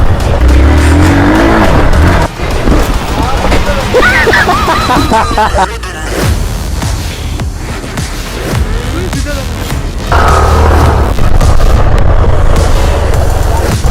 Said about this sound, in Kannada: ಈ ಟೆರನಲ್ಲಿ ಬಿಟ್ರೆ ಗಾಡಿ ಹೆಂಗೆ ಕ್ರೇಜಿ ಆಗೈತೆ